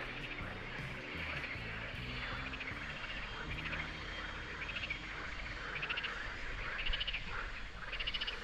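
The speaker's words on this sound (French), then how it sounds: "la nature va nous offrir un concert de grenouilles." Frogs croak steadily in a dense outdoor chorus at Lac de Coiselet in May, their pulsing calls overlapping and rising in bursts, with a low engine-like drone underneath.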